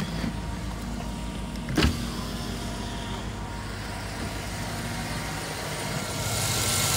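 A pickup truck with a random misfire fault idles steadily, a low continuous engine rumble close by with a brief sharp knock or click near the two-second mark and a rising hiss toward the end.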